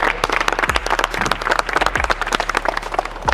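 An audience at a media basketball event applauds as an Azerbaijani singer is welcomed, giving dense, loud, continuous clapping with a few sharper claps cutting through and no talking.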